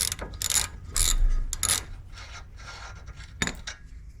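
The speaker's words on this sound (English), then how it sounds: "the 3 ball joint nuts can now be loosened with a 17mm socket and removed from the bolts" A ratchet with a 17mm socket loosens ball joint nuts on an Audi TT's lower control arm, making quick bursts of clicking ratchet strokes with pauses between, close up and alone.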